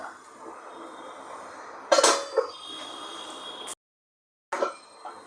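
A lid set over a pan of soft, fluffy kanda poha gives a short metallic clatter and scrape mid-clip, standing out from a steady kitchen hiss. A second brief clink follows after a moment of silence.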